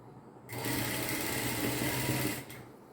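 A sewing machine stitches a kurti in a steady, close whirring run of about two seconds, starting and stopping abruptly with quiet room tone on either side.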